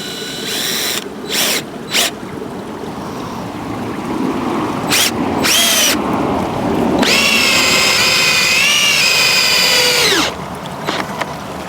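A power drill fitted with a long socket drives bolts during repair of an old bridge, giving short close whirring bursts and then a sustained loud whine that rises and falls in pitch before stopping, with steady outdoor background noise.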